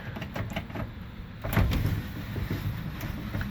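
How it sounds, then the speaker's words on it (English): Window on a 1973 Ford F100 farm truck rolling up and down, a steady low mechanical crank grind with a louder stretch midway, close by and heard alone. "Windows roll up and down perfectly."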